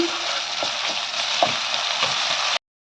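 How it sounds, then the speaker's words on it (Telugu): Ginger garlic paste frying in a pan gives off a steady, close, broadband sizzle with a few soft stirring knocks, and the sound stops abruptly near the end. "ఇప్పుడు అల్లం వెల్లుల్లి పేస్ట్ వేసుకోవాలండి. ఇది ఫ్రై అవ్వాలి."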